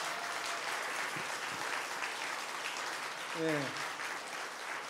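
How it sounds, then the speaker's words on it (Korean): Applause from a concert audience encouraging a municipal youth children's choir, steady clapping that stays fairly soft, with a brief spoken word and a short voiced sound near the end. "우리 아이들 격려 박수 한번 다시 부탁드리겠습니다."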